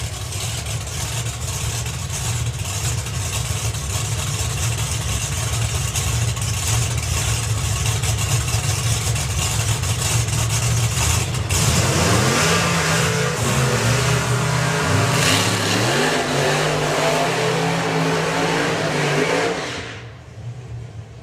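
A supercharged hot rod drag car makes a half pass at the NSRA Hot Rod Drags, its engine loud and sustained, rising in pitch as it accelerates before dropping away near the end, with no voices.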